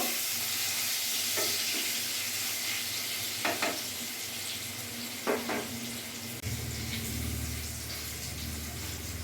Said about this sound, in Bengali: আলুগুলো আমি একটু লাল লাল করে ভেজে তুলে নেব।